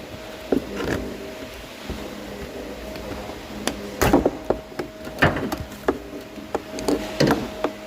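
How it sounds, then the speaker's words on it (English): A radiator hose clamp being fitted on a 2016 Jeep Cherokee 2.4L, heard as close metallic clicks, taps and clunks coming in irregular bursts, loudest in the second half, with no talk. "Now let me put the clamp on."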